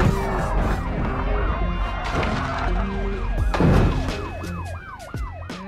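Police sirens in the BeamNG driving game wail in repeated rising and falling sweeps, loud and layered over engine noise and a crash, with no talking over them.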